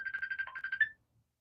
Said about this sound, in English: I got a call coming in, guys.